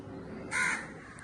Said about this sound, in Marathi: पक्ष्यांचा आवाज वगैरे येतोय